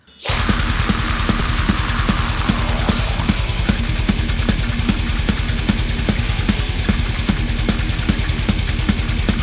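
Thrash metal track in a dense, loud unmastered mix, with driving drums and distorted guitars pounding continuously from start to finish.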